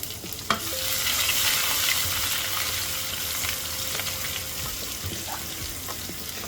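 Bay leaf, cumin seeds and chopped garlic hitting hot oil at the start of a snake gourd fry, a loud crackling sizzle with a sharp spatter at the start that settles into a steady hiss, with occasional stirring clinks and no voices.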